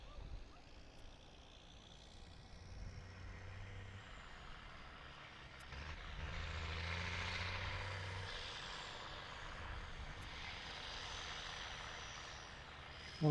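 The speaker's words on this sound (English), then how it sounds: "I think the next one is cleared for takeoff" A jet airliner taking off at a busy cargo airport, a broad distant engine roar that swells and holds over several seconds, with lower truck and ground rumble underneath and no clear talk.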